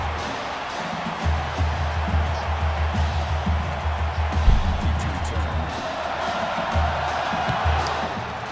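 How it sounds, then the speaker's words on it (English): A home crowd roars and cheers for the Bully Factory team at a 2017 football game, with a sustained loud swell of voices and whoops that rises and falls across the stretch. "that's a huge response for Bully Factory, for the home team"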